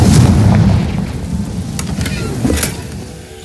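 The Confringo blasting spell goes off in Hogwarts Legacy, giving a heavy, rumbling boom that swells at the start and then slowly fades away, with a second, smaller burst near the end.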